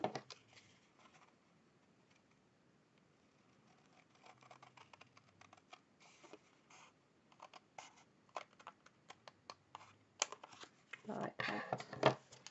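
Scissors snipping paper trim for a Christmas pillar box, faint at first, then a quicker run of crisp cuts and rustling paper handling growing louder near the end.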